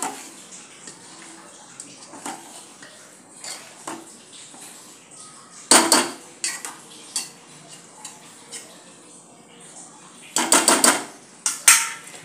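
Cabbage manchurian being tossed with finely chopped spring onions in a pan, heard as scattered scraping and clinking of a spoon against metal, with sharper bursts of clatter in between, alone and without talk.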